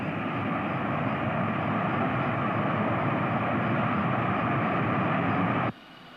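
A press charter jet taking off from Andrews roars loudly and steadily with broadband engine noise, then cuts off abruptly near the end, leaving only faint background.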